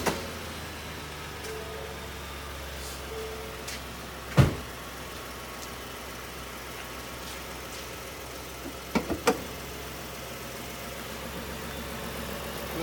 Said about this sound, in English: gonna fire the engine up and give you a look under the hood.